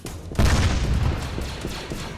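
Video game gunfire, a loud burst of several quick shots that begins suddenly and then rumbles on as a dense volley, with nothing else heard over it.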